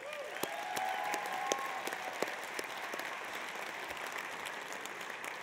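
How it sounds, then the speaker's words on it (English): A banquet audience at a football foundation awards dinner applauds after an honorary membership is announced, many hands clapping quietly and steadily at some distance, with a few sharper individual claps standing out and some faint voices underneath. "Please a round of applause for John."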